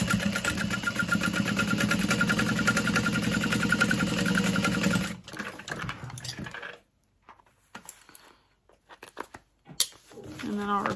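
A sewing machine top stitches a tote bag in a loud, continuous whirring run that stops about halfway, followed by quieter clicks and fabric handling.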